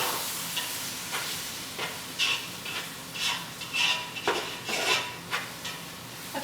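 A spoon scrapes and stirs homemade pasta sauce in a non-stick pot, irregular soft scraping strokes and light clinks over a gentle bubbling sizzle.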